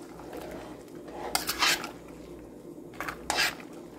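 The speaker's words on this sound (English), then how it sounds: "Just stir this up a little and add the rest of that bag on top." A spoon clinks and scrapes around a pot of peaches as they are stirred, with two or three bright metallic knocks standing out over a soft, close background.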